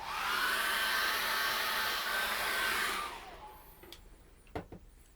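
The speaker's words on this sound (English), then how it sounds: "And then I'm going to dry that with a hairdryer." A hair dryer blows with a steady whooshing hum for about three seconds, then cuts off, leaving a few soft clicks and taps.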